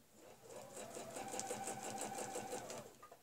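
Sewing machine stitching a curve guided by a quilting ruler, a steady rapid mechanical whir with even rhythmic ticking, close and quiet, running about three seconds before stopping.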